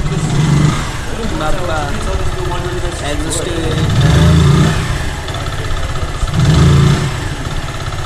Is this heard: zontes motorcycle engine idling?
yes